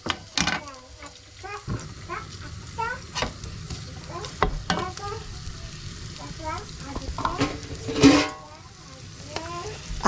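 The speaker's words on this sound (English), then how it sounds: "Let's start up by frying our onions." Onions fry in a pan while being stirred, giving a soft, steady sizzle broken by repeated scraping and clinking strokes from the utensil across the whole stretch, fairly quiet and close.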